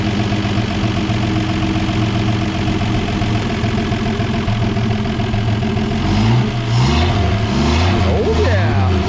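A 1954 Ford F100 truck engine, revived after sitting abandoned for 39 years, idles with a loud steady rumble up close, then revs up and down in rising and falling swells near the end as people talk.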